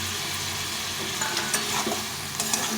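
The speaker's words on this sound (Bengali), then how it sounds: "দিয়ে আবার একটু ভালো করে নেড়ে চেড়ে নেবো" Fried potatoes stirred into a cauliflower curry in a pan, making a dense, close sizzle with scraping and stirring noises, steady throughout with no voices.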